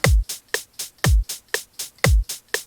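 A programmed FL Studio beat of crisp hi-hat hits with a deep thumping pulse at regular intervals, and a faint metronome click keeping time underneath.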